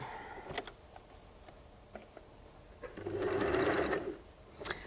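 A sewing machine stitches a microwave potato bag, with soft ticking and clicks before a steady whirring run of stitching and a final click, quiet and close.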